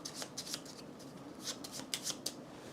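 Playing cards shuffled by hand during a board game setup, a quick run of crisp riffling bursts repeating close to the mic in a quiet room.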